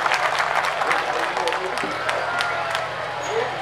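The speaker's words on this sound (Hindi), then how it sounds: "जोरदार तालियों के साथ" An audience at a Hindi kavi sammelan poetry gathering breaks into sustained applause, dense and loud clapping holding steady throughout with some crowd murmur mixed in.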